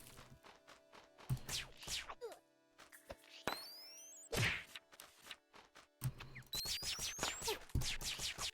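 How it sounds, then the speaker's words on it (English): Fireworks in the video game Lovely Planet let out thin rising whistles twice, amid sharp whacks, scratchy clicks and thuds of gameplay, with a person talking faintly at times. "I hear that firework go off."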